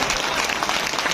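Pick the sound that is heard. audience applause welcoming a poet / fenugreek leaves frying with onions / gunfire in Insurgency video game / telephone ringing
audience applause welcoming a poet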